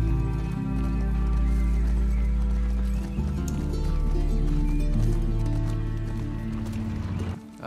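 Horse hooves thud steadily through the whole stretch in The Last of Us Part 2, with a loud sustained musical score layered over and partly masking the footfalls.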